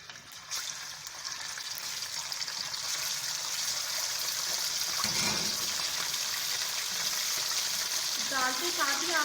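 Chicken added to a hot pan for green chicken karahi: the frying sizzle swells and holds loud and steady up close, with a brief clatter near the end and no clear speech.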